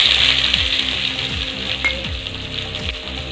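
Fenugreek seeds, a few urad dal, chopped garlic and onion sauté in a pan for a fish gravy, giving a loud, close, steady sizzle broken by a few low scraping stirs; nobody speaks.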